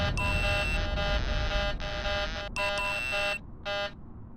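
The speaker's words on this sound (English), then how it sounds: "No, that was high G alarm actually." A high-G warning alarm in Kerbal Space Program sounds during a spacecraft reentry with plasma blackout, a loud, continuous harsh buzzing tone over a roaring rumble, cutting out briefly and then returning in short bursts at the end.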